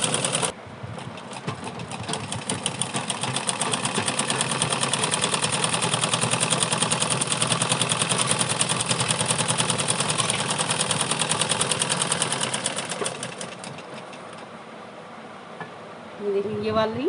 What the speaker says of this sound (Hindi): पूरे में अब हम इस तरह से सिलाई लगा लेंगे